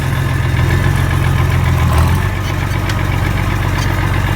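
An IH Farmall 560 tractor engine runs steadily under load in 4th gear, a continuous low, loud rumble with a faint knocking quality and no pauses.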